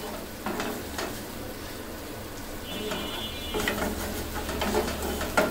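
Chicken bhuna masala stir-fries in an open pan, giving a soft, continuous sizzle with occasional scraping stirs and clinks, fairly quiet and without talk.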